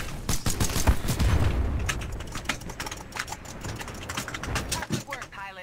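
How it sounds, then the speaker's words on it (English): Gunfire emptying a full magazine in Titanfall 2, a rapid string of sharp shots densest at the start and thinning out, with players talking throughout. "I shot the whole magazine"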